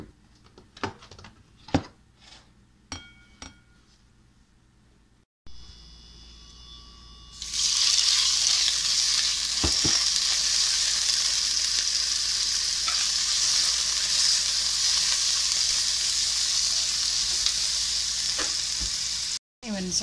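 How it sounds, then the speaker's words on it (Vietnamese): Steamed sea cucumber hits a hot pan and sizzles steadily, preceded by a few sharp knocks and clatters; the frying hiss then runs loud and continuous with occasional stirring scrapes and a faint electrical hum. "Đây mình xào thử coi."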